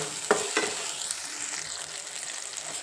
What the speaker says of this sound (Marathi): परतण्यासाठी हा कांदा आणि हा एवढा टमाटर मी घालते